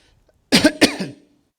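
Two sharp, close coughs in quick succession from a person, loud and dry, with a short trailing breath and silence around them.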